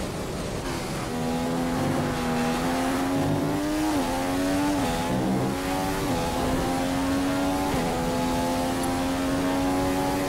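Formula 1 car engine in the F1 2015 racing game at Bahrain, a continuous high-pitched whine that climbs and drops through gear shifts, loud and steady with no talk over it.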